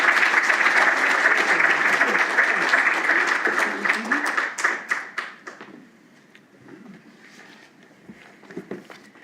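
A lecture audience claps to welcome the speaker, a steady, full round of applause that thins into scattered, fading claps about halfway through and leaves a quieter room.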